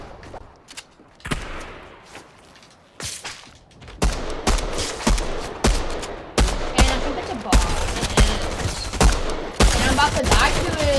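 Rapid bursts of SMG gunfire in a video game, crackling in irregular clusters that grow denser and louder partway through, with brief pauses between volleys and no talk.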